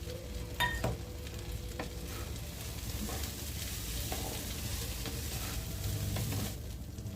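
Rice and dal with a tomato and green chillies being stirred in a hot pan, a steady sizzle with scraping strokes and occasional clinks of the utensil, close and continuous.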